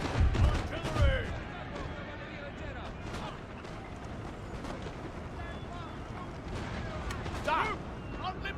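Artillery firing in a Napoleonic-era battle in the game Napoleon: Total War, deep booming cannon shots near the start with distant rumbling battle noise and scattered crackles at moderate loudness.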